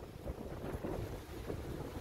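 Water raging off rocks below a dam in the Union and Chester, South Carolina area, a steady broadband roar that stays loud and continuous alongside wind buffeting the microphone, with no talking.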